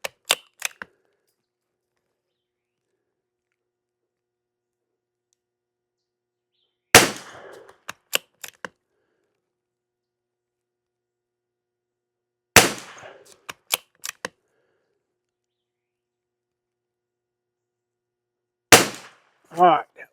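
A Tikka rimfire rifle fires CCI SV rounds outdoors, four sharp single reports spaced several seconds apart, each followed by a brief clatter of bolt work, with near silence between shots.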